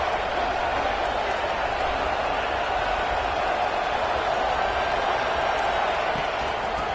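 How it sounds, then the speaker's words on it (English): Steady roar of a home crowd at a football game broadcast, a dense continuous wash of cheering and crowd noise filling the whole stretch at an even, loud level. "this home crowd is fired up and ready to make a difference today"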